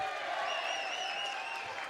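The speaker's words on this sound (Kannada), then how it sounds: "ಮೇಡಮ್ ಅವರ ಶ್ರೀಮತಿಯವರಿಗೂ ಕೂಡ ಎಲ್ಲರ ಪರವಾಗಿ ಜೋರು ಚಪ್ಪಾಳೆಯ ಮೂಲಕ ಸ್ವಾಗತವನ್ನು ಬಯಸ್ತಾರೆ" Audience applause welcoming guests at a temple fair celebration, a steady dense wash of clapping from a crowd throughout, with a faint high tone running over it.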